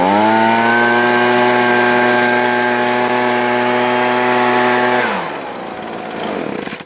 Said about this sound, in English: the leaf blower runs great